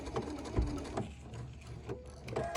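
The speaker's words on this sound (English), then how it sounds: "And I'm just going to sew it." A Husqvarna Viking sewing machine stitches an invisible zipper into fabric, giving a short run of steady mechanical whirring with a few soft clicks and thumps, close and fairly loud with no talk.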